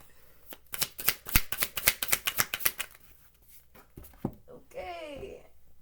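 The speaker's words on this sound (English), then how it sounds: "Let me get some more cards for that." Tarot cards are shuffled in a quick run of close, crisp riffles lasting about two seconds. A few scattered taps follow, and then a voice begins speaking.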